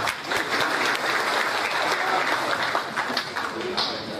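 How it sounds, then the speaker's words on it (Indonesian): An audience applauds during a stand-up comedy set, a dense, even round of clapping that carries on for several seconds with faint voices mixed in. "Tepuk tangan buat waduk."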